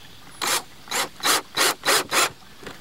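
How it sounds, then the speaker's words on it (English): A power drill drives small screws through rubber into a wooden flume, giving six short, evenly spaced whirring bursts, close and distinct, with quiet gaps in between. "So I'm going to take these small screws and a drill, and I'm just going to attach the rubber to the side over here."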